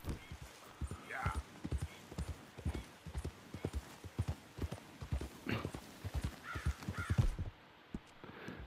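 Rhythmic horse hoofbeats in Red Dead Redemption 2 clip-clopping at a steady gallop, close and prominent, with occasional bird caws and faint background voices.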